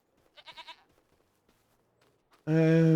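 Sheep in the farming game Farming Simulator 25 give a brief faint bleat early on, then a loud, close, wavering bleat bursts out at the end, with quiet talk in between.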